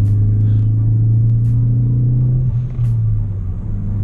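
Ford Fiesta ST engine heard from inside the car, a loud low steady drone that pulls higher, dips briefly near the end, then carries on, with no talking.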